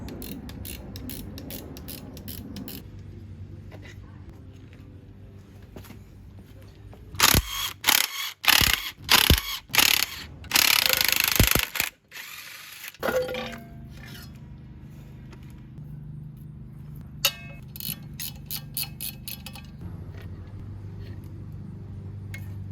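Ratchet wrench work on the motor mounts of a Nissan VQ35 engine, with a loud burst of clicking, clanking metal and rasping in the middle, set between quieter stretches of light mechanical ticking and shop noise.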